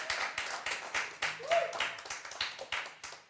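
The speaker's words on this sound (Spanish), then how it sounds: "Le damos un aplauso al Señor." Church congregation claps in unison during a Spanish-language service, roughly a dozen sharp rhythmic claps in a steady beat with faint voices and a brief tone underneath.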